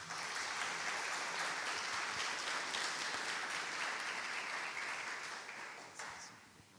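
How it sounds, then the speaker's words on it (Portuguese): A church congregation welcomes its pastor with a steady round of clapping from many hands, fairly distant and even in level, easing off slightly near the end. "Vamos recebê-lo com a salva de palmas, gente?"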